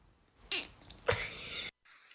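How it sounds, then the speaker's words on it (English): A cat lets out a couple of short, odd vocal squeaks and a sneeze-like burst, close and fairly quiet. "Cats make weird noises."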